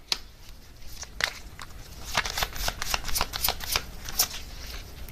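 Tarot cards are shuffled close up, a dense run of crisp riffling and flicking snaps that thickens midway into rapid papery clatter, with no voices.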